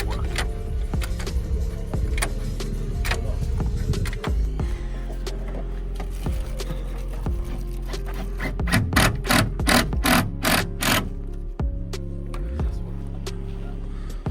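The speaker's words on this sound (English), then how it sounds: "That is the new shifter. This is the old one. That is the new one, and Will is currently playing with the gears." Volkswagen Scirocco R with a new short shifter, the gear lever clunking and clicking as it is moved through the gears inside the car, with a quick run of sharp knocks near the end.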